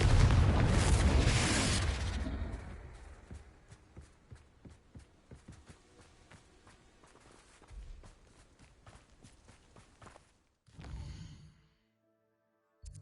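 Confringo spell blasts in the Hogwarts Legacy video game: a loud burst opens, fading into a long rumbling tail with quiet ticks and footfall-like taps, then a short muffled thump near the end before near silence.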